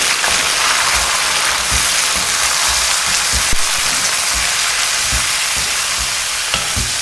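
Citron pachadi is stirred in a hot pan, giving a loud, continuous close-up sizzle broken by scattered soft knocks of the spoon.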